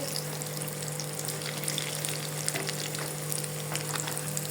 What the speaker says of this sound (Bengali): এই যে একটা ভাজতে দিয়েছি, আর এটাকে এখন আমি তুলে নেব।